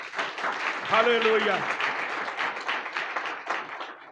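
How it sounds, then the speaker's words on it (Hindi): Loud applause from a church congregation at a Sunday service fills the space, a dense steady wash of clapping that runs throughout while a voice calls out over it. "जोर से ताली बजाएं।"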